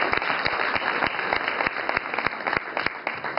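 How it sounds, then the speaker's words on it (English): Audience applause for the organizing staff at a hospital event on bedside scanning, steady close clapping from a crowd with a few sharp individual claps standing out, heard alone throughout. "please an applause for our staff"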